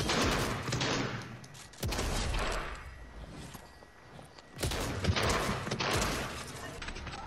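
A shotgun fires in Fortnite gameplay: several sharp, loud blasts spaced a few seconds apart, with mechanical clatter and footsteps between them and voices talking over the action.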